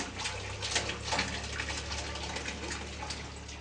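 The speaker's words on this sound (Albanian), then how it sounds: "çezmat nxjerrin sa ujë, aq edhe balt" A village water tap runs muddy water in a steady, close, continuous gushing stream with no one talking.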